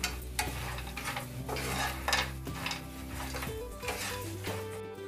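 A spatula stirring and mixing soya chilli in a pan, repeated scraping and clinking of metal on the pan over a quiet sizzle, steady and close.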